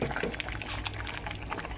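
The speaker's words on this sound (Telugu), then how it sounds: "చూడండి, రైస్ను సొరకాయ చక్కగా ఉడుకుతుంది కదా." Rice and bottle gourd boil in a covered pot, a dense close bubbling and simmering for under two seconds, with no voices.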